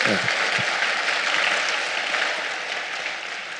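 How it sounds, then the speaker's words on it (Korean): A crowd applauds steadily, a dense wash of clapping that gradually fades, with a voice briefly audible at the very start. "박수 한번 합시다"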